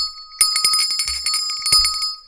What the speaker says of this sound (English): I have now rang that bell.